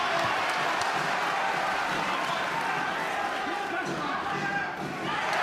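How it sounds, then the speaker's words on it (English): A boxing crowd in Castlebar cheers and roars in a continuous, distant wash of noise behind a commentator's steady talk. "Crowd willing him on here in Castlebar."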